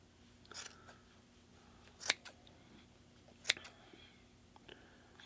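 Sharp scissors snipping through the yarn loops of a pom pom rug, quiet and close, with a few separate crisp cuts spaced apart and soft handling noise between them.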